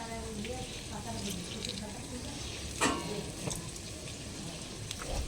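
Chicken fries on medium flame in a pan while it is stirred now and then. A soft, steady sizzle runs throughout, broken by a few brief clinks and scrapes of the spoon.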